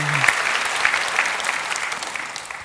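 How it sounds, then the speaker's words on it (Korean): A church congregation claps together in warm, sustained applause, dense and even for a few seconds, with a brief voice heard at the start. "하나님께 큰 박수 합시다."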